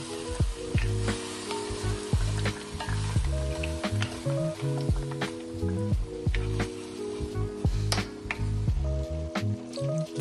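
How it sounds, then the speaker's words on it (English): Chicken wings frying with tomato, ginger, onion and garlic in a pan: continuous crackling sizzle with frequent spatters and rhythmic stirring scrapes, close and fairly quiet, with no talking. "Again, saute them all."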